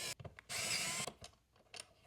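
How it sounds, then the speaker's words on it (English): A handheld power drill whirs in quiet, short bursts. One longer run is followed by several brief blips and pauses, fairly faint and with no speech. "And check out my hyper-masculine drill."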